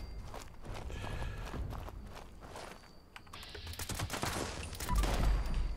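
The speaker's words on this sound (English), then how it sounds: "Someone else is shooting." Gunfire from another player in Fallout 76, a rapid patter of sharp clustered shots, fairly distant at first and then louder and denser toward the end.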